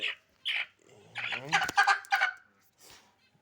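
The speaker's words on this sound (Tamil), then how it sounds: "இவர் இப்போவே கூவிட்டாரு." A young rooster gives a short, wavering, unfinished crow between a few clucks and squawks, close by and fairly faint.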